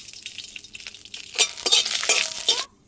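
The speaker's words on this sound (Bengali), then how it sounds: "ফোড়নটা একটু ফুটে উঠুক" Tempering spices for a sweet-sour chalta pickle splutter in hot oil: a soft hiss builds into loud, close crackling pops for about a second and a half, then cuts off abruptly, with no talking.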